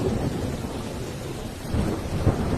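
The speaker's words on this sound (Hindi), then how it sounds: "बारिश भी रुकने का नाम नहीं ले रही है।" Steady rain hisses throughout, with a low rumble of thunder swelling underneath toward the end.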